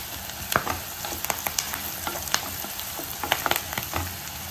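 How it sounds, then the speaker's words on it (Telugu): Chopped onions and turmeric fry in hot oil with a continuous crackling sizzle, broken by sharp pops and the scrape of stirring, up close and without any voices. "ఉల్లిపాయలు ఫ్రై అయిపోయాయి"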